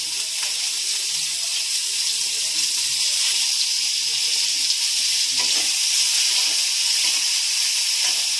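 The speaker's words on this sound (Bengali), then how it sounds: "ওই তেলের মধ্যেই দিয়ে দিচ্ছি আমি একটু রসুন বাটা আর কুচনো পেঁয়াজ।" Garlic paste and chopped onion fry in hot oil for a mustard pointed-gourd curry, producing a loud, continuous bright sizzle and hiss with occasional stirring scrapes and no voices.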